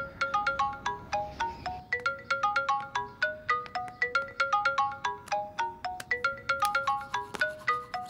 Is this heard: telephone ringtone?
yes